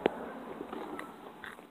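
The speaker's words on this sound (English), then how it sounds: "Oh, we're eating popcorn." Popcorn being eaten up close, with one sharp crunching bite at the start followed by softer, faint chewing and rustling noises.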